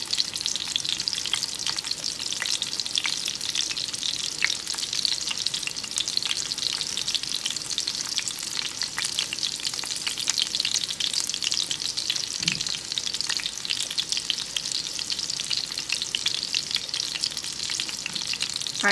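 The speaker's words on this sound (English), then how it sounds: "Toss this with the sauce." Pasta being tossed with sauce in a hot pan for veal parmesan, producing a loud, continuous, close-up sizzle and crackle that runs steadily throughout without a break.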